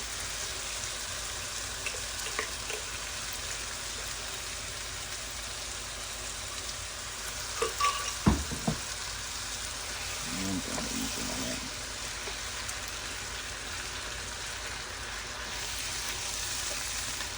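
Pureed green vegetables sizzle steadily in a pan for green rice, a constant hiss with a few soft scrapes of a rubber spatula partway through, and someone speaking faintly at one point.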